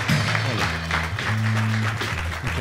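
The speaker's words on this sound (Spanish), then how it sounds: "vamos a recibirlo con un fuerte aplauso" Studio audience applause greeting a guest on a talk show, a dense burst of clapping lasting a couple of seconds while a host's voice and music tones sound over it.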